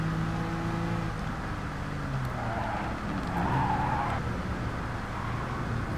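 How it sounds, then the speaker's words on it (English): Car tires skid under locked brakes in Gran Turismo Sport, a racing video game, as a sustained scrubbing screech rides over a constant engine drone, loud and unbroken. "brakes was locking a little bit"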